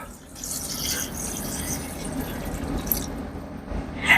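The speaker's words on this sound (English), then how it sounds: "pour the second jar in there." A second jar of liquid, room-temperature water or broth, is poured into a pressure cooker holding chicken Alfredo noodles, giving a steady splashing fill that runs close and continuous for about four seconds.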